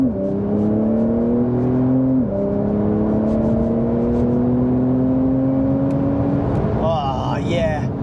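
A Porsche 992-generation 911 with its sports exhaust switched on accelerates hard, a loud, steady engine note climbing in pitch through a gear change, with talk over the top and a brief burst of wind or road noise near the end.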